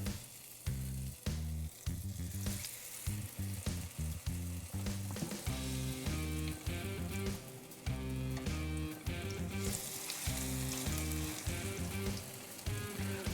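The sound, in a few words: fish frying in a pan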